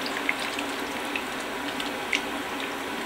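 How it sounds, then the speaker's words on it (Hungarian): Cold water poured into a pot of thickened Hungarian potato soup, a steady splashing rush with a few brighter droplet plinks, no voices. "most azonnal felöntöm hideg vízzel"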